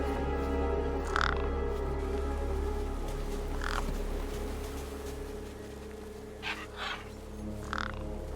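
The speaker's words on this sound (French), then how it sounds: "Je ne pouvais pas m'interposer entre ces oiseaux et leur festin." Birds feeding on a corpse in the video game Beyond a Steel Sky give scattered raspy caws, two close together near the end, over a constant low hum of game ambience.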